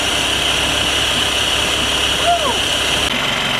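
A repaired Nash Metropolitan car engine runs at a steady, loud, even drone, with people talking over it.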